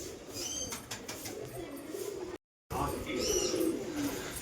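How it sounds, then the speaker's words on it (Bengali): A pigeon coos softly at close range as a man calls and coaxes it, his talk running over the low, repeated cooing almost throughout, with a brief cut of silence midway. "এই যে কবুতর, আয় আয় আয় আয়।"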